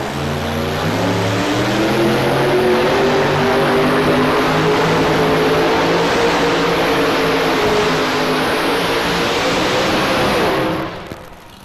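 The pulling tractor 'the Revenge' roars down the track at an indoor farm show tractor pull, a loud, sustained engine howl that climbs in pitch and then cuts off near the end.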